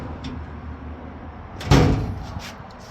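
A drawer on a Husky 41-inch seven-drawer mobile workbench with a wood top slides shut under its own pull, a soft glide ending in a sudden firm thud and brief rattle, near and clear.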